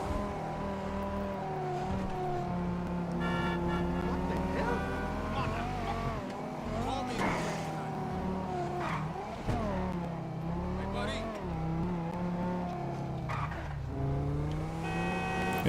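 Banshee 900R supercar driving in GTA 5 Online, a continuous engine drone with shifting pitch as it revs and accelerates, steady and loud under a layer of in-game sound.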